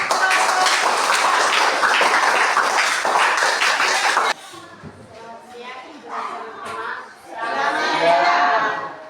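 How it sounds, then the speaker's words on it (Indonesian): Students clap for a classmate's presentation in a classroom, a burst of dense applause lasting a few seconds before it stops abruptly and people talk. "kita beri aplaus untuk"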